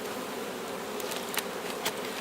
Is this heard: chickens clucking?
no